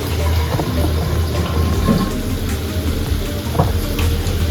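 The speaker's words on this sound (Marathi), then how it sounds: "आणि फक्त आता ही जी कढाईमध्ये भाजी आहे त्यात मी थोडंसं पाणी टाकलं." Water is poured into vegetable gravy sizzling in a kadhai (wok), giving a steady hiss and bubbling that runs unbroken and fairly loud. There is no speech.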